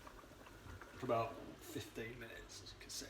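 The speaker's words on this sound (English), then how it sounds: "my soup's been bubbling away there now for about" A pepper and tomato soup simmers in a pot with soft bubbling, faint beneath someone talking close by.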